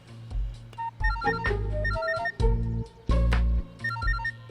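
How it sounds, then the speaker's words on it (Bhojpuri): A phone ringtone plays a repeating electronic melody in bursts, loud and close, with no one talking. "बाबूजी के फोन आ गल।"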